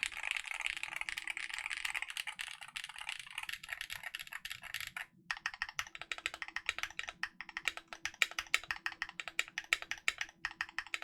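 Close, continuous typing on a Ne065 HE keyboard with fresh beige keycaps: a dense run of clacks, a short pause, then sharper separated keystrokes with a faint rattle.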